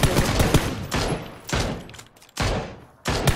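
Bursts of automatic gunfire in the battle royale game PUBG, loud and close, coming in several rapid volleys separated by short pauses.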